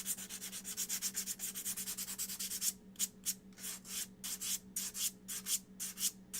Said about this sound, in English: We're going to use the lighter sandpaper. Like the 120.